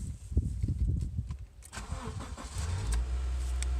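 A car engine cranks with a rapid uneven chugging for a couple of seconds, then catches into a steady low running rumble, close and alone.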